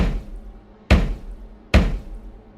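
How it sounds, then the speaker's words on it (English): Heavy knocks strike a closed room door: one fading at the start, then two sharp, booming thuds spaced slow and evenly, each with a short resonant decay in a quiet space. "I heard a knock from inside room 203. 3 deliberate knocks,"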